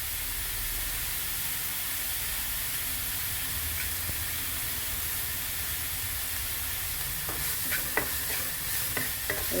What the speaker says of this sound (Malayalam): ഇത് നന്നായിട്ട് വഴന്ന് വരണം എന്താ നമ്മളെ സവാള ഗോൾഡൻ കളറായ